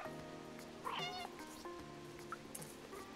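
A cat meowing in the video game Stray, a couple of clear close meows over soft rain-like ambience, with no talk.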